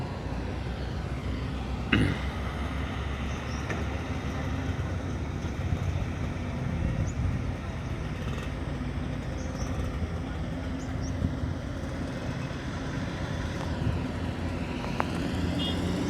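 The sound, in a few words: trucks passing while hauling fill soil at toll road construction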